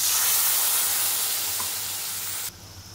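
Potatoes for alu kudri sizzle loudly in hot oil with mustard after water is splashed in, a dense steady hiss that holds, then abruptly drops to a quieter simmer near the end.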